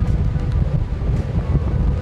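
Strong gusts blow across a microphone on a windy coastal cliff on the island of Milos, Greece, giving a loud, continuous rumbling buffet with no break.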